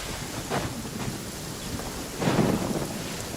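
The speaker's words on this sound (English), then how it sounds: "Quite a downpour." Video game sound: a steady wash of heavy rain is broken by two low, muffled rumbles of thunder, the second one louder, with no one speaking.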